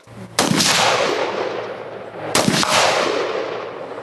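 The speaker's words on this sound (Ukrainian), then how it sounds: "Охочі стріляли по мішенях з неабияким натхненням." Two loud .308 rifle shots crack out about two seconds apart at a shooting range, each followed by a long rolling echo across open ground.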